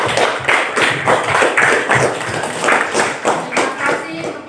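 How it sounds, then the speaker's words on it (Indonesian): Clapping from a small group, likely children, at a Quran recitation gathering, with uneven, overlapping hand claps continuing steadily throughout at moderate loudness, with voices faintly mixed in. "Kasih tepuk tangannya, Nak."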